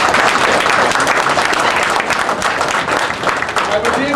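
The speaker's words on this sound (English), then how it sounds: "a round of applause for him, ladies and gentlemen" Sustained round of applause from an audience at a book launch, dense and even clapping filling the whole moment.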